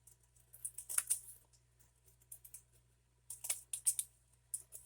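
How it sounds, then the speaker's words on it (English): Scissors cutting an index card, a run of crisp, close snips in two short clusters separated by a pause, quiet against a faint low hum. "Okay, then we're going to cut this side."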